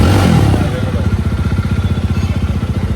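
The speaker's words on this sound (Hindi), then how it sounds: "नई बाइक ले ली भाई ने, अब हमको मुंबई घुमाएंगे भाई" A new motorcycle engine runs close by in Mumbai, its throb settling into a steady rapid pulsing idle after a brief rev, loud and unbroken.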